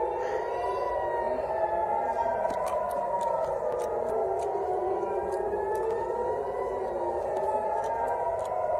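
Air raid sirens wail continuously during an attack on the Gaza Strip, their pitch slowly rising and falling in long overlapping sweeps, with faint sharp clicks in the background.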